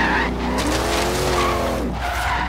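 A 1990 Chevy Camaro in Forza Horizon 3 skids loudly into a dirt corner on a hill climb, its engine droning steadily under a long, gritty tire slide with no talk over it.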